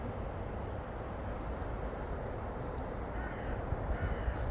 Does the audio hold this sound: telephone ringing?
no